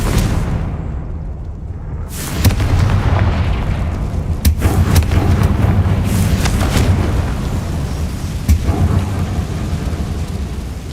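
A Confringo spell explodes in the Hogwarts Legacy video game with a deep booming blast that kicks in sharply after a quieter lead-in. A rumbling, crackling tail and a few further thuds follow, loud and full throughout.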